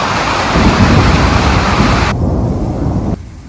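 Heavy rain with thunder pours in a dense, loud hiss with a deep rumbling underneath on a Himalayan trek near Chopta, India, then the sound cuts off abruptly in two steps.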